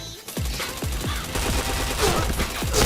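Rapid bursts of gunfire from a first-person shooter, Point Blank, with sharp repeated shots in quick succession over a dense, loud battle mix of game effects.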